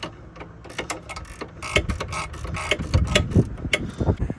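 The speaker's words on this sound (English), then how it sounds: "I will have to use a Allen key socket with a ratchet spanner just to stop that from happening" Ratchet spanner turning an Allen key socket on an anti-roll bar link of a Ford Transit Mk7 van: a run of close, sharp mechanical clicks and metallic ticks, fairly steady, with no talking.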